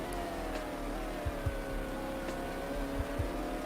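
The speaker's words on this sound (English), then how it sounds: "God, those old Porsches sound dumb." Old Porsche race cars in a video game at Le Mans drone with a continuous engine note under faint tyre and track noise, a few low thumps punctuating the steady hum.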